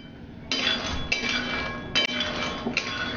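Roasted makhana (fox nuts) being checked in a pan produce four sharp, crackly bursts of crunching and clinking against the metal, spaced about a second apart over a quiet background.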